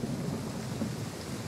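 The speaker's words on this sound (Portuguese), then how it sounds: "Só chove nesse território aqui." Steady rain with a low, continuous thunder rumble in a Total War Three Kingdoms game landscape, an even ambient wash with no distinct strikes or voices.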